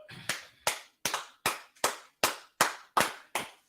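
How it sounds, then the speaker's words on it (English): Eight sharp, evenly spaced claps ring out in unison at a steady beat, loud and close, with no talking over them. "All right, clap it up."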